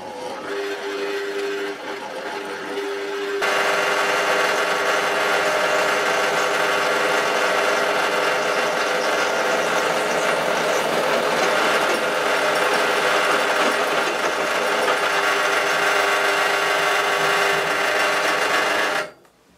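A Parkside PTBM 500 bench drill press running at its lowest 500 rpm setting bores a 13 mm bit into a piece of steel, a loud continuous whining grind with a steady hum that starts after a quieter motor idle and cuts off at the end.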